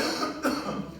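A man recovering from a bad flu gives a single short, harsh cough into a microphone during a church service, loud and close.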